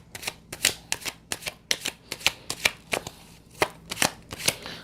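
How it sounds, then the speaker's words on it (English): Tarot cards being shuffled by hand close up, a quick run of crisp riffling bursts in a fairly even rhythm with no voices. "I'm going to pull some cards on that"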